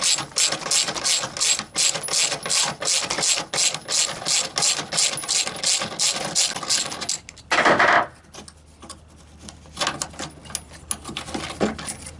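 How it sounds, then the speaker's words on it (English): A ratchet fitted with a Torx bit backs a bolt out of a Sport Trac tailgate bracket, giving loud, fast, rhythmic clicking up close, then a short rattle and a few quieter clicks. "We got our torque bit on here with a ratchet. Go ahead. Just take this bolt all the way out."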